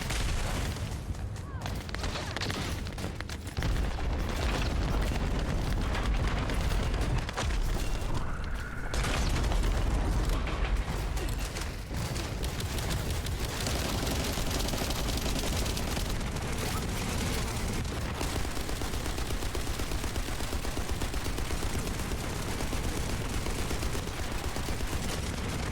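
Video game shooter combat with continuous rapid gunfire, mechanical weapon sounds and booming explosions filling the whole stretch densely and loudly, with a player's voice occasionally under the din.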